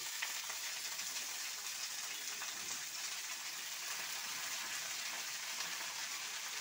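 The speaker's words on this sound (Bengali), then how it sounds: "এই পুঁই শাকটা আমি কড়াইতে দিয়ে দেব" Malabar spinach goes into browned, frying onion in a wok, giving a steady, even sizzle and crackle throughout, close and moderately loud with no talking.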